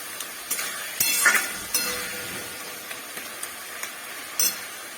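Raw mango mixture cooks in oil and milk in a pan and is stirred with a utensil. Soft sizzling runs underneath, broken by scattered clinks and scrapes against the pan.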